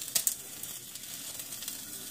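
Steady soft sizzle from a sausage and ground beef mixture in a hot pan, faint and continuous with a couple of brief crackles near the start.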